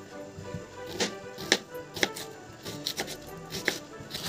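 Knife chopping a cleaned banana flower (mocha) on a board: a string of separate sharp chops at an uneven pace, close and clear, alone with no talk.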